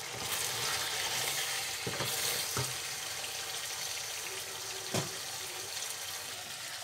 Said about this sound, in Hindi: आलू गोश्त अच्छी तरह मैंने भून लिया है और इसमें घी छोड़ दिया है।